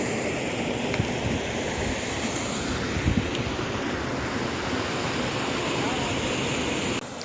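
Waterfall at the Komaram Bheem Asifabad reservoir project, a steady broadband roar of rushing water that stays constant and fairly loud throughout, with a faint thump near the middle.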